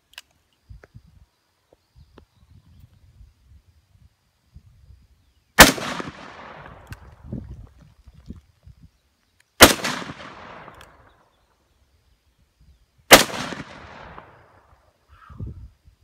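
Three sharp, very loud blasts from a .500 Smith & Wesson revolver fired outdoors at a bottle, spaced a few seconds apart, each followed by a brief echoing decay, with quiet rustling between.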